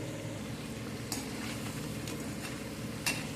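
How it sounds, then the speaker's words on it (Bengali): Veg Chinese pakoras frying in oil over a low-medium flame give a steady, gentle sizzle close by, with a couple of faint clinks from a utensil against the pan. "আর একদম লো টু মিডিয়ামে এটাকে ভেজে নিতে হবে"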